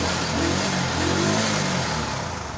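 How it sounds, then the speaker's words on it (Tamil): A TVS XL 100 BS6 moped engine idles after starting, a steady close mechanical drone with a low rumble and slight revving, running alone without talk. "பார்த்திங்கன்னா இப்போ வண்டி ஸ்டார்டிங்கில் ஓடிக்கிட்டு இருக்கு"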